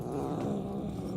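A cat in the video game Murdered: Soul Suspect purrs in a steady, low, continuous rumble, close and fairly soft, with no other sounds over it.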